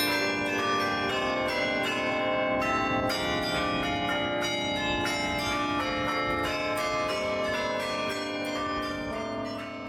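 The carillon bells of a tower in Bruges ring out a melodic tune. The tones are loud, rich and overlapping, continuing for the whole stretch with no talking.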